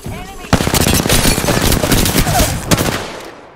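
Sustained rapid automatic gunfire rings out in a shooter video game, a loud continuous burst of shots lasting a few seconds before tapering off.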